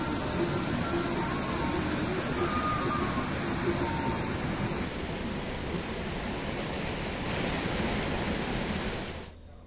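Fast-flowing Alaknanda river in flood, rushing up to the ghats, gives a loud, steady broadband roar of churning water that holds constant for about ten seconds before stopping abruptly.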